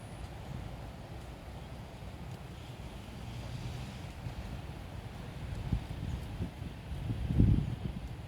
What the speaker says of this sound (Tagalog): Ayun, may hangin na. Sarap na hangin.